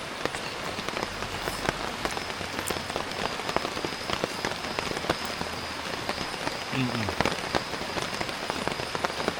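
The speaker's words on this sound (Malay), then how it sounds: "Hujan kan." Steady rain falls at a riverside wild campsite, a dense continuous patter of drops on surfaces with scattered louder splats, close and even throughout with no talking.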